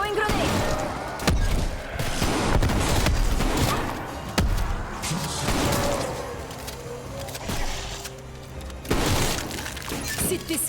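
Grenade blasts and gunfire in Call of Duty Cold War Outbreak, a dense game mix with several sharp explosive cracks and bursts over continuous noisy action.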